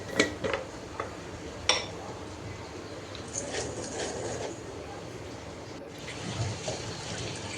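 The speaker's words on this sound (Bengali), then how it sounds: "তো লাল করে ভাজার পর পানি দিয়ে দিলাম।" Water poured into a cooking pot of semolina fried until lightly reddened, with a steady broad splashing hiss and a few sharp clinks of utensils against the pot.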